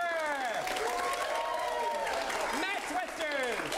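An audience at a live show claps in a steady burst of applause under a speaking voice, lasting a few seconds at moderate loudness.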